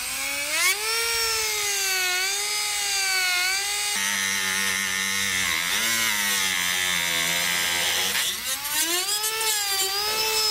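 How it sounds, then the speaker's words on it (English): A Dremel rotary tool cuts through plastic bumper trim on a 2021 Chevrolet truck, giving a loud, continuous high whine that wavers in pitch as the load changes and dips briefly near the end. "take my Dremel and cut this out."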